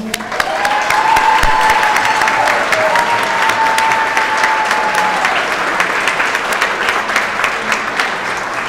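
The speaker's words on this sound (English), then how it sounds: "So everybody, a round of applause" A banquet audience at a scholar-athlete awards evening applauds in a loud, dense, continuous wash of many hands clapping that holds steadily for several seconds before easing a little, with a faint tone briefly audible in the middle.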